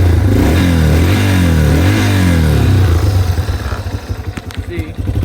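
2021 Yamaha TTR 230 dirt bike engine starting and revving up and down nearby, loud, then settling to an uneven idle, with someone talking over it.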